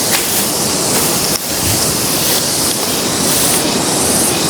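A fast-flowing river, the Sungai Tuntang, rushes below a forested hill in a continuous, loud broadband roar, with gusts of wind buffeting the microphone.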